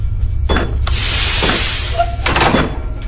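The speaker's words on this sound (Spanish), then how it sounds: "Ay, abrió una puerta." In the SCP Containment Breach video game, a heavy door slides open with a loud, hissing mechanical rush and a few sharp clunks, heard close up with no talk over it.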